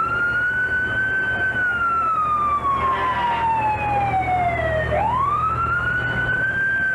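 A fire truck or ambulance siren wails loud and close at a St. Patrick's Day parade, its pitch sweeping slowly down, then dropping sharply and climbing back up in a continuous rising-and-falling cry.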